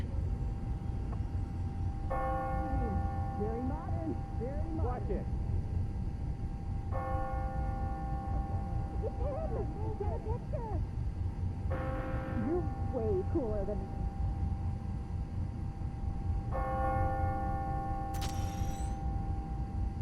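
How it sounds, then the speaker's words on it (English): Church bells in the video game Marvel's Spider-Man: Miles Morales toll the hour four times at regular intervals, each strike ringing out with a lingering metallic hum, while people talk underneath over a steady background rumble. "That's it. Ringing on the hour. When I hear those bells"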